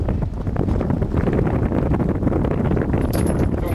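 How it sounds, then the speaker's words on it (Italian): Steady wind rushes and buffets through the Su Bentu cave in the Lanaittu Valley, a constant broadband roar that stays loud and close throughout. "Sentite anche voi il vento che dà il nome a questa grotta"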